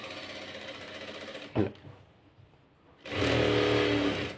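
Sewing machine stitching along the edge of a blouse lining, a steady mechanical whir that runs, stops briefly with a short clack, then resumes loud and close for the final second and a half.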